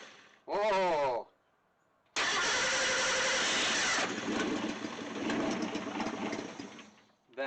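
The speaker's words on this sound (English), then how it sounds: "Key on, clutch in, crank it over." A 1963 Ford Econoline pickup engine cranks over and catches after 17 years sitting, settling into a loud, steady idle after the start; a brief voice exclaims just before the cranking begins.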